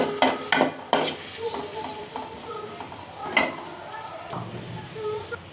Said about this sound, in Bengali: পেঁয়াজগুলোকে নেড়ে ছেড়ে ভালোভাবে বাদামি কালার আসা পর্যন্ত অপেক্ষা করব।